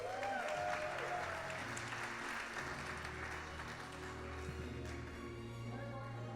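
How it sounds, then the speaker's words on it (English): Audience applause at an awards ceremony in Los Angeles, a soft, steady ripple of clapping from a distant crowd, lasting several seconds with a voice speaking over it at first. "another big round of applause for everybody"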